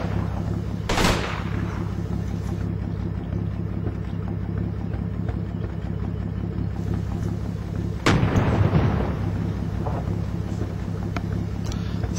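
Two heavy, close booms from a tank gun firing in Combat Mission's Market Garden campaign, spaced several seconds apart over a steady engine drone.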